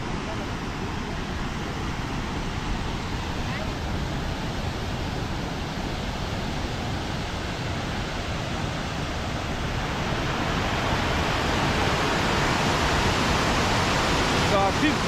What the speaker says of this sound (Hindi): काफी बड़ा वाटरफॉल है, जहाँ तक जाया जा सकता है चलेंगे।